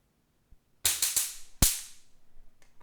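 An electric fly zapper kills a fly: a few sharp crackling snaps in quick succession, then one louder zap fading with a short sizzle, close and loud in a quiet room.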